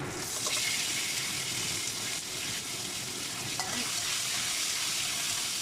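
Chili is added to a frying pan for dried squid, giving a steady close sizzle with faint stirring and a watery hiss throughout, no voices.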